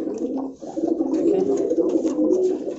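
Fancy pigeons cooing in a steady, continuous low warble, close by and fairly loud, with soft rustling around them.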